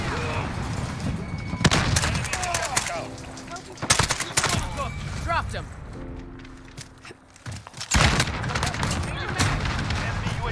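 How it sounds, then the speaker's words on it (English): Rapid gunfire from Call of Duty: Modern Warfare, with dense bursts of shots and sharp cracks through most of the stretch. Louder volleys come in clusters, over continuous in-game noise and a player talking. "Bro, stop shooting me with that thing."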